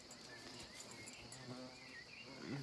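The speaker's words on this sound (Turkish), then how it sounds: "Ya bu iri sinekler var ya arkadaşlar" Large flies buzz around cattle on a farm where a Simmental heifer is kept, a thin insect drone that hums steadily at low level with faint background clatter.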